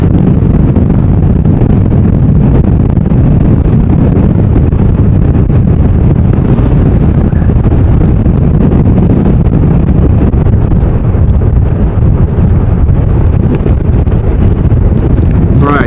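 Strong wind buffets the microphone outdoors at an airport plane-spotting spot in stormy weather, a loud constant low roar filling the whole recording.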